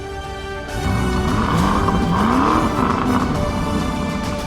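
A Lamborghini Urus S, a 666-horsepower SUV, drives off: a low engine note swells after a quiet start, then rises and falls as the car pulls away and keeps going, loud and close, with no talking.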